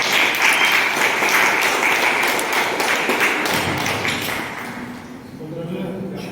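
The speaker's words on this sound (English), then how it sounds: "Can we have a round of applause?" Loud applause from a crowd fills the room, steady at first and then fading out near the end.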